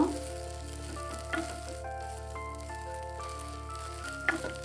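Small chopped pieces of boiled egg fry lightly in a frying pan, a quiet steady sizzle with a couple of stirring knocks over a low background hum, and no talking.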